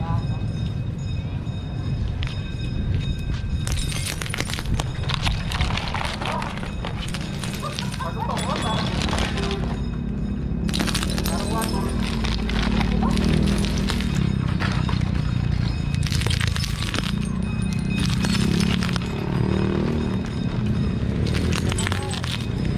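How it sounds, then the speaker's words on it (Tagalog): Puncture-proof alloy bike tires roll over glass bottles and nails, giving repeated sharp crunches and crackling bursts. The sounds come close and loud over a steady low rumble, and people talk throughout. "napakalutong talaga nung yung mga tunog nung bote, pako"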